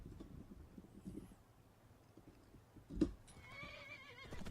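A horse in the video game Skyrim whinnies once sharply and briefly, followed by softer nickering and snorting over a low ambient game background with faint hoof movement.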